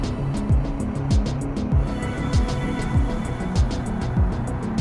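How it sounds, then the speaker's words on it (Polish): An Iveco Hi-Way Euro 6 truck engine runs at a steady idle, a soft continuous drone with a smooth, car-like character and repeating low pulses, heard at moderate loudness with no talk. "niezbyt przyjemny jest dźwięk silnika Euro 6. Zwłaszcza Iveco, taki trochę odkurza."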